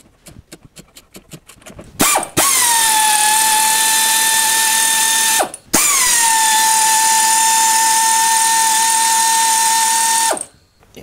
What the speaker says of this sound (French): Ouais, je vais simplement dévisser les vis qui sont là.